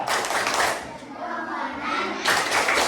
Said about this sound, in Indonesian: Kita kasih tepuk jempol dulu untuk kelompok 4.